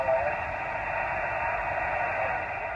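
An amateur radio receiver at a park activation in Barrie, Ontario, tuned to the Southern Cross net, puts out a steady hiss of static and faint band noise with no clear signal coming through.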